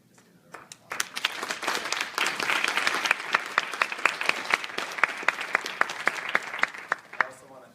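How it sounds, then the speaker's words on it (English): An audience at a university panel on immigration policy gives the panelists a round of applause, quick to swell into dense clapping, then settling into a few sharper individual claps before fading. "Just another round of applause."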